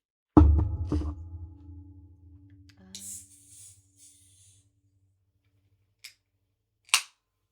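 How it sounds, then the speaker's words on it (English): An Aldi energy drink can cracks open with a sharp pop and hiss near the mic, followed by a fading fizz and a couple of faint later clicks. "So let me just have an energy drink if that's okay, guys."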